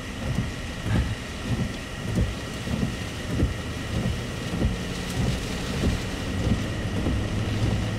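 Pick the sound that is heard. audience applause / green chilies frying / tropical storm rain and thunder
tropical storm rain and thunder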